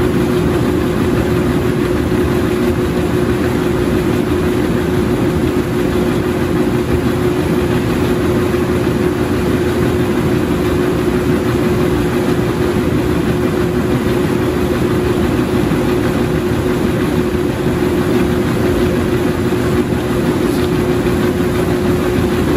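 A Maytag MVWP575GW commercial grade top-load washer spins, giving a loud, steady low hum and rumble with a constant whine above it, unbroken and unchanging for over twenty seconds.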